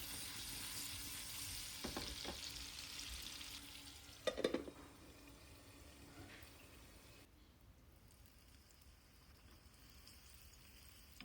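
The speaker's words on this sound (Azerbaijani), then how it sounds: "Duzunu, istiyotunu da əlavə edib bunu da belə bu formada qızardıram." Potatoes fry in a pan with meat fat, salt and black pepper, giving a soft, steady sizzle with a few brief crackles and stirring scrapes; it grows quieter in the second half.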